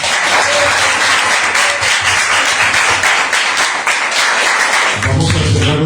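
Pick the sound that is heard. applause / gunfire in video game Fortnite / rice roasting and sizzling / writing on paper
applause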